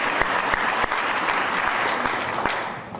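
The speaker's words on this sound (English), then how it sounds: "Let's give them all a round of applause and thank them for being here as well" Audience at a tree summit in Los Angeles applauding, dense sustained clapping from a roomful of people that carries on steadily throughout.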